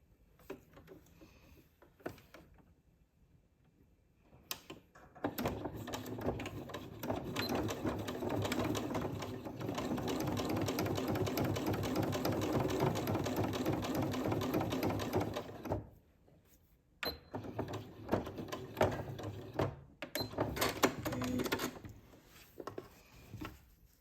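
A sewing machine stitches bias binding onto a garment with black thread, a steady close mechanical whirring run lasting about ten seconds, framed by short bursts of start-stop stitching and quieter handling before and after.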